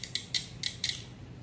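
Crisp, close clicks from a 12 volt automotive relay being switched by power and ground, four distinct snaps in quick succession with a slightly uneven rhythm, isolated in a quiet room.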